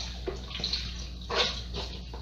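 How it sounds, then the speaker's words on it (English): Water pours into a Ninja Foodi pot holding beef, giving a short, faint splashing trickle in a few small bursts, nearby and quiet, with no talking. "And then I'm gonna add a little more water."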